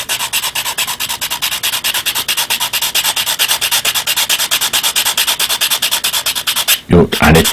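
A fishing float body rubbed with 400-grit sandpaper: loud, close, rapid back-and-forth rasping strokes in a steady rhythm, ending abruptly with a brief handling knock.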